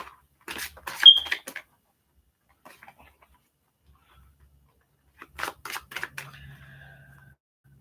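Cards are shuffled during a psychic reading, with two short bursts of crisp riffling and patting spaced several seconds apart, quiet overall with near silence in between.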